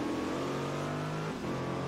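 A 700+ horsepower Corvette in Forza Horizon 4 drones at steady revs, a loud sustained engine tone that dips briefly in pitch and recovers, with no voices.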